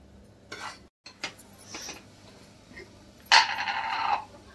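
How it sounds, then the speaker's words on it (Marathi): A metal lid is placed on a pot of sweet lapshi: a few light clinks and scrapes of cookware, then a brighter ringing metallic contact that lingers for about a second, close and fairly quiet. "अलगद झाकण ठेवते."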